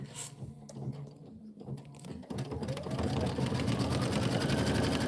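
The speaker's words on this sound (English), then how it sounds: "Now it's going to do the placement stitch for the bottom of the house" A computerized embroidery sewing machine stitches a placement line for the bottom of a house on a Kimberbell quilt tile, starting with scattered mechanical clicks and then settling into a loud, steady, rapid needle chatter.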